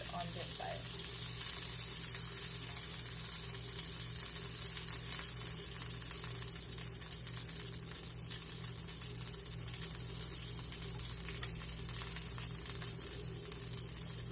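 Birria quesataco frying in hot oil, a steady close sizzle with crackling spatter running throughout, alone without talk.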